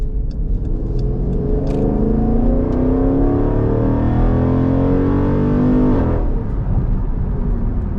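A Jeep SRT engine pulls hard on a night drive in New York City, a loud, close, steadily rising roar that climbs through the revs for several seconds, then shifts abruptly and settles into a lower drone.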